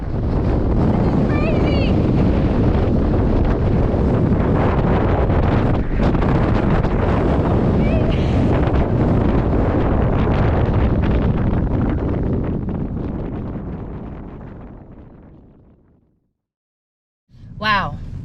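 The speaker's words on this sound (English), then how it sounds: "It was incredibly windy at the cliffs, so be sure to hold on to your phones tightly." Strong wind batters the microphone on the cliffs in Ireland, a loud, continuous roaring buffet that fades out near the end before a brief voice.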